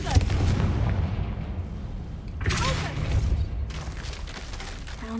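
A Confringo blasting spell explodes in Hogwarts Legacy, a loud booming burst followed by a second rumbling blast and lingering crackle and debris.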